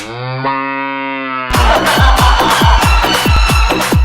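A cow moos loudly with a long, drawn-out low call, followed by a burst of rapid repeated lowing calls, close and clear.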